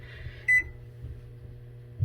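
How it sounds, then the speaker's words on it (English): A kitchen oven timer being set for a roast, giving a single short electronic beep over faint low background hum, close and fairly clear. "I'm going to start my first timer at 30 minutes"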